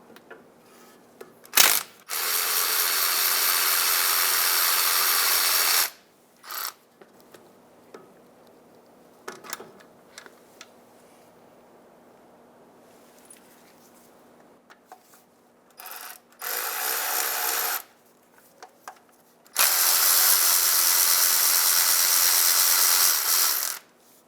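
A ratchet wrench loosens a 10 mm bolt and nut on a cover of a 2007-2015 Mazda CX-9 during crankshaft sensor replacement, with three long runs of loud, fast ratcheting between quieter clicks and handling noises; no talking.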